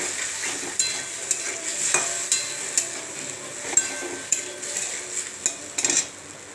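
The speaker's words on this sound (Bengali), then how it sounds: "এবার গাটি কচুটা দিয়ে দেবো। এবার ভালো করে নাড়ব।" Taro curry seasoned with turmeric and salt is stirred in a pan, a spoon clinking and scraping against the metal in irregular knocks over a soft sizzle, no talking.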